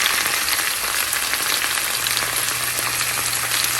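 Tomatoes and onions fry in a pan for a chicken kofta gravy, giving a steady, loud, close sizzle with crackling pops throughout and no talk.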